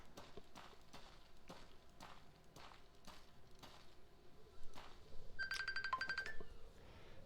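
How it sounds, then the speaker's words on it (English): A phone rings with an incoming call during a Witcher-style gameplay session, a steady electronic ringtone starting about two-thirds of the way through over a backdrop of rhythmic footstep-like game sounds. "Gotta mute my mic again, phone call."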